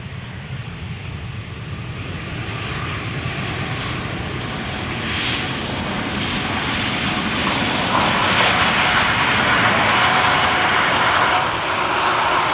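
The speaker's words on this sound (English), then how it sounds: "This is Finnair flight 1301 arriving from Helsinki." Finnair passenger jet from Helsinki landing at Amsterdam Schiphol Airport, a loud steady engine roar that swells slightly as the aircraft passes close by, with no voices.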